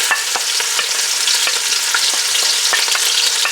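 Vegetables with ginger and garlic sizzle in vegetable oil over medium heat on a stove, a steady crackling fry with frequent short stirring scrapes.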